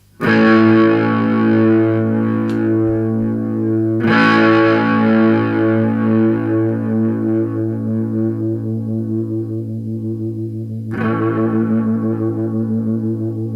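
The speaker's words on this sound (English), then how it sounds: "I'll put a bit of distortion on so you can hear it, or overdrive." Distorted electric guitar chords ring out through a pedalboard overdrive effect, heavily overdriven and sustained, with a fresh strum about every four to seven seconds, each one slowly decaying.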